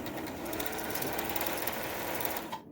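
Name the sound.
Singer Touch Tronic 2001 sewing machine motor running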